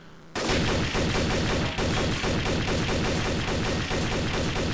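Rapid automatic gunfire in the shooter game Trouble in Terrorist Town starts abruptly and rattles on without pause, loud and close, a dense run of shots with no talk.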